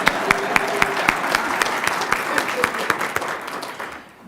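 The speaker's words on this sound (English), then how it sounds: "you can clap for that" Applause at the NCRC 2014 conference on housing, a room of many hands clapping steadily at moderate distance, the sharp claps gradually thinning and fading out toward the end.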